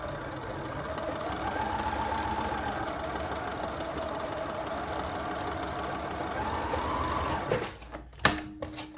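A sewing machine stitches a quarter-inch seam on a quilt block, running in one steady rapid whir for about seven seconds before stopping, followed by a few soft handling clicks.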